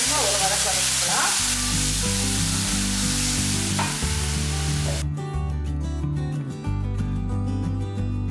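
Steady, loud sizzling and frying of tomato paste in a hot pan with occasional stirring scrapes; the hiss cuts off abruptly partway, leaving a lower, muffled cooking rumble.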